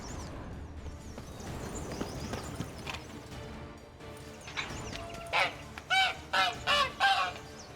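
A caged bird in The Witcher 3: Blood and Wine honks and squawks loudly, several harsh calls in quick succession near the end, following a stretch of clattering, busy background game sound.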